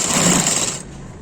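Sewing machine stitching a reinforcing seam along the edge of a trouser pocket, a short fast whirring burst that cuts off abruptly, close and alone.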